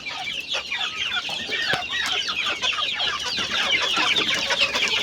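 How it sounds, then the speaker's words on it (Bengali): A flock of young native chickens raised for meat clucks and chatters busily at close range, a continuous jumble of overlapping calls with no talk. "কি চমৎকার মুরগিগুলো"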